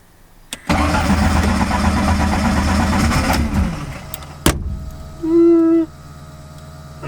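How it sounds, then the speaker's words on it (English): A supercharged car cranks for about three seconds without catching, then cuts off with a sharp click. A brief electric whine follows as the fuel system primes, with no voices. "That's priming the fuel."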